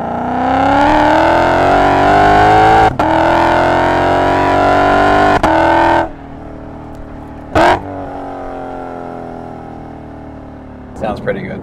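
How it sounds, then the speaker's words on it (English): Exhaust-only recording of a car engine: loud, buzzy revs climb and hold with brief dips between throttle pushes, then settle to a rumbling idle with a quick blip and a final rev. "And this is exhaust only now."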